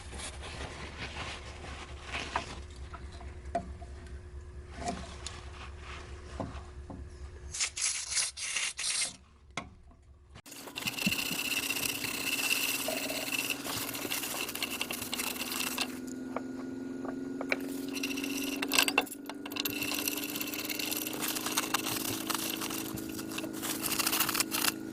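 A brush scrubs excess solder flux off a circuit board during an electrical repair, a close, steady rasping rub in continuous strokes that grows louder and denser partway through.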